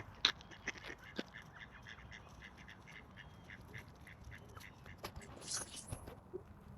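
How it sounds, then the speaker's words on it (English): Ducks quack in a few short, quiet calls outdoors in a park in Pushkin, Russia, scattered over low background noise. "Hello, ducks."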